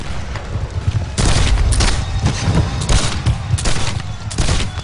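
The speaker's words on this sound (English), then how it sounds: "Union gunners fire point blank." Union guns fire point blank during a Gettysburg battle reenactment, a loud, continuous fusillade of overlapping booms and rolling gunfire that fills the whole stretch with no talk.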